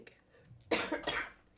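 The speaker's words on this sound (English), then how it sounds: "I'm gonna have to cough, I think." One person gives a short, close cough, a harsh burst with a quick second push, in a quiet podcast setting with no talking over it.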